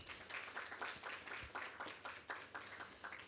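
Scattered audience clapping after a speaker at a post-election discussion event, uneven bursts of hands rising and falling across the room at moderate, somewhat distant level, no talk over it.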